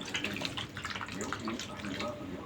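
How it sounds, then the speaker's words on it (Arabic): Water pours steadily into a pan with a continuous splashing gurgle, close by, lasting the whole moment. "نزودها بقى شويه ميه"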